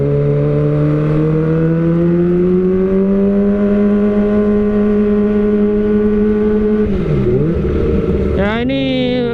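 A Kawasaki ZX25R with an Austin Racing exhaust holds a loud, high-pitched steady drone, then dips briefly before a sharp rising rev near the end.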